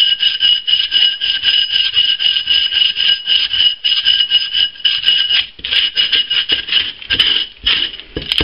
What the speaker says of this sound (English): I'm not going to tell you what kind of grit sandpaper to use. I don't know what kind of grit. This is 80 grit.